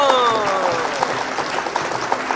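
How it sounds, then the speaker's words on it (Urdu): Audience applause breaks out at a talk about Zakir Naik and mentions of Muhammad in the Bible, a steady wash of clapping with rhythmic individual claps and some talk underneath. "تالیاں"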